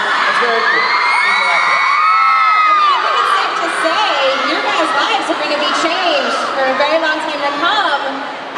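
Thousands of fans at a Hunger Games mall tour scream, whoop and cheer together in a loud, continuous crowd roar with shrill yells rising throughout.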